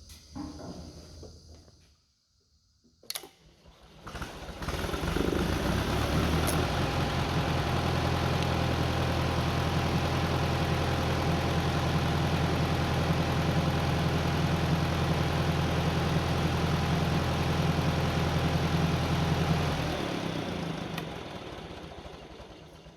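A 1940s Kohler generator engine cranks and fires during its automatic start sequence, then settles into a loud, steady running drone close by, with a brief quiet pause before starting.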